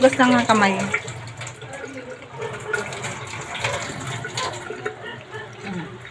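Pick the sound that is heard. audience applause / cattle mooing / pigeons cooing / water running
water running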